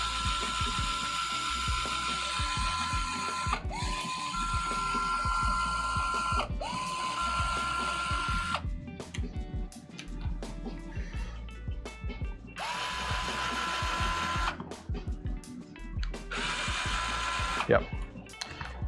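Screws being backed out of a damaged 3D-printed part for a MOG RC truck kit, giving a ratcheting, clicking mechanical sound with short whirring driver bursts in between, close by and fairly steady.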